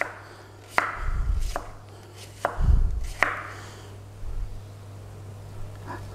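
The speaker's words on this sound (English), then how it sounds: "we need to just slice some onions" A knife slicing half an onion on a cutting board for beef and ginger stir fry: about half a dozen crisp, separate cuts at an uneven pace, close by with no talking.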